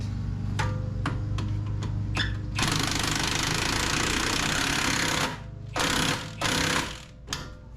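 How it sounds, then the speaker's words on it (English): An impact wrench runs a bolt in on the rear brakes of a Nissan Altima, with several short rattling bursts, then one long sustained hammering run and a few more brief bursts, loud and close, with no talk. "Run it in with my impact."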